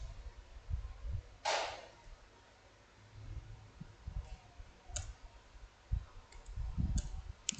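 Scattered clicks and taps from a computer keyboard while terminal commands are typed, soft irregular keystrokes with a few sharper clacks over a quiet room hum.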